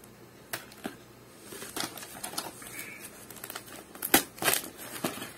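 Plastic packaging is cut open and crinkled in a series of sharp, irregular crackles and snips, growing louder and denser toward the end, close up and with no talking.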